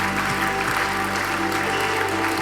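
Applause rises from the crowd at a church miracles and healing evening, a steady patter of clapping over a sustained tonal hum, lasting a couple of seconds.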